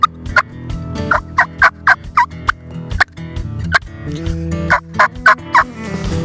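A hunter works a turkey mouth call to imitate a wild turkey gobble, giving a rapid series of short, throaty yelping bursts close to the listener, with a steady low hum of background music beneath.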